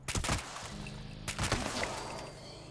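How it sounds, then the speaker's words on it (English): Explosions in Fallout 76 killing a mole rat: a couple of sharp, close blasts with crackling bursts, separated by a short pause and trailing rumble. "he died from the explosion there"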